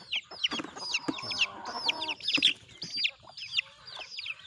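Chickens cluck and chatter close by in a dense run of short calls, with sharp chirps from young birds layered over the clucking.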